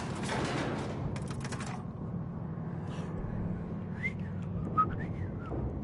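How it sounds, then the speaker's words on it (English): Someone whistles a few short, faint, wavering notes, a clumsy attempt at a tune, after some mechanical clatter over a low steady hum. "I know I suck at whistling."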